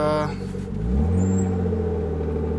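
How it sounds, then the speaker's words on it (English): A BMW E36 with a newly fitted short shifter pulls away in first gear, its engine rumble swelling steadily and loud close by after a brief dip, with faint background voices. "I'm gonna put it in first and then just just peel off a little bit and see if it's straight."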